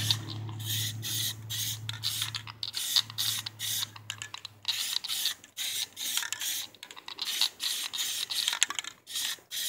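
Plasti Dip sprays from an aerosol can onto car rims in short bursts, close and hissy, with brief gaps between each pass.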